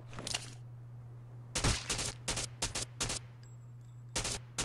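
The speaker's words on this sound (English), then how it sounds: "Oh my god, we're not landing any shots right now." Sniper gunfire in the video game Rules of Survival: several sharp, loud shots spaced irregularly over a steady electronic hum, with no talk over them.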